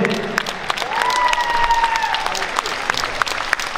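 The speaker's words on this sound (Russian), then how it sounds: "Аплодисменты." Applause at a ballroom dance festival, the Minsk Open, filling the hall as a dense steady patter with a faint tonal whistle and voices mixed in.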